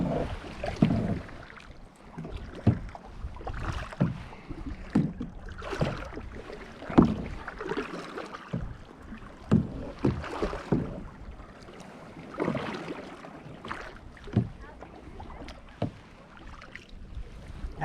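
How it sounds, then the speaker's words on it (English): Kayak paddles splashing and dipping during a race on Lake McDonald in Montana, rhythmic strokes with wind and water noise, close and moderately loud. "Kayak races!"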